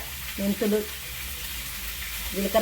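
Cumin, fenugreek and a little mustard seed sizzle in hot oil for a fish curry, a soft steady frying hiss with a few brief clatters near the start and end.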